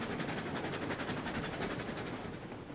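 A locomotive labours uphill hauling empty coal hoppers in the RailRoads Online game, giving a steady, dense rumble with rhythmic wheel clatter that holds at an even loudness throughout, with no talking.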